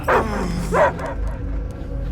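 A dog in the Guardians of the Galaxy video game gives two sharp, close barks near the start, followed by low rumbling game ambience and faint background sounds.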